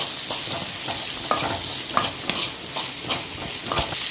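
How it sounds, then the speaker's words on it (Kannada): Onions and curry leaves frying in oil for hotel-style pepper chicken, a dense steady sizzle with regular stirring scrapes and taps of a spoon against the pan. "ಕರಿಬೇವು ಹಾಕಿದ ಮೇಲೆ ನೀರುಳ್ಳಿ ನೀರುಳ್ಳಿ ಹಾಕಿ ಸ್ವಲ್ಪ ಉರಿಯೋದು ಈಗ ಎಣ್ಣೆಯಲ್ಲಿ"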